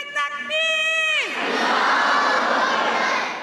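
A crowd at Jalsa Salana in Germany answers a chanted Takbir slogan, one voice calling a sustained cry before many voices burst into a loud collective shout that holds for a couple of seconds.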